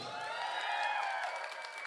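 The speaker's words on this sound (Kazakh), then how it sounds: "Азаматтың командасы шегітегілер қол шапалақлар" Wedding guests applaud and cheer for the winning team at a celebration, a steady wash of clapping with a few whoops carrying throughout, crowd noise filling the room without any clear speech.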